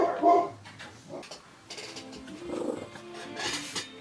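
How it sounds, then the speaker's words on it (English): A puppy growls and grumbles in short, low bursts, fairly close but quiet, with soft gaps between the sounds. "Growl at the camera, Mocha."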